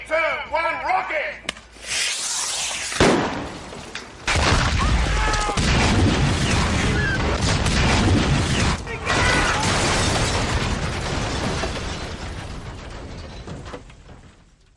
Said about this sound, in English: 3, 2, 1, rocket!